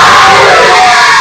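A crowd at an Islamic gathering in Karim Town, Multan, roars one loud, sustained collective shout in reply to a religious slogan.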